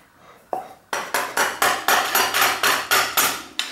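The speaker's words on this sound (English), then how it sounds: "then I can use my mallet to kind of tighten it up here a little bit" A mallet taps a tool to tighten a square taper bicycle bottom bracket, giving about a dozen sharp metallic knocks. A single tap comes first, then a steady, evenly spaced run of blows, close and loud.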